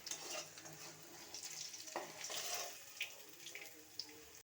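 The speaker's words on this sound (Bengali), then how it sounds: "ফুলকপির পকোড়াটা আমার হয়ে গেছে এবার আমি নামিয়ে নেব" Cauliflower pakoras frying in oil in a home kitchen give a soft, continuous sizzle with occasional stirring scrapes and clicks, fairly quiet and steady.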